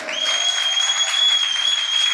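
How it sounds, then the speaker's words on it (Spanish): A church congregation claps steadily for a couple of seconds, the applause fairly close, under a sustained high electronic tone that rings through the room. "Esta palabra se merece un fuerte aplauso."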